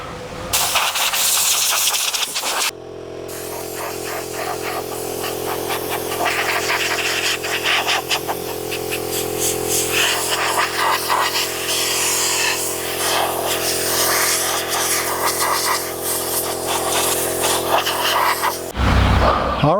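A warm-air blower drying a wet motorcycle during winterizing, heard as a loud, steady whooshing rush with a constant motor hum running for most of the stretch, starting and stopping abruptly.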